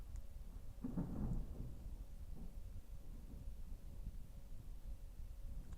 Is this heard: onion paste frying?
no